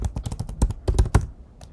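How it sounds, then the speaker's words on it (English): A password typed on a computer keyboard during device setup: a quick burst of about a dozen crisp, close key clicks with a short pause before a final tap, no voices. "And type in your password."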